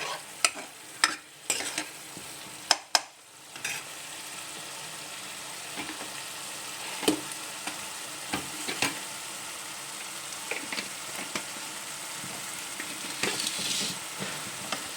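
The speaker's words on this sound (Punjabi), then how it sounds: "ਹੁਣ ਅਸੀਂ ਇਹਨੂੰ ਵੀ ਭੁੰਨਾਂਗੇ ਚੰਗੀ ਤਰ੍ਹਾਂ ਮਸਾਲੇ ਦੇ ਨਾਲ ਹੀ" Onion, tomato and garlic masala sizzles steadily in a pan, with scattered spoon clacks and scrapes as it is stirred and roasted; close and continuous, with no voices.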